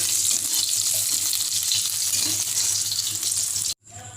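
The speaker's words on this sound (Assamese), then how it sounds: "মই জাস্ট ডিম কেটা অকমান ফ্ৰাই কৰি লৈছো স্লাইটলি ফ্ৰাই কৰি লৈছো" Eggs frying in hot oil in a pan, a loud, steady, close sizzle that continues without pause and then cuts off abruptly near the end, with no talk.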